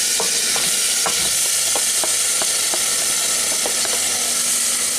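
Marinated potatoes fry in hot oil for an aloo dum, a loud continuous sizzle and hiss with repeated stirring clicks and scrapes of a spatula against the pan, close up with no voices.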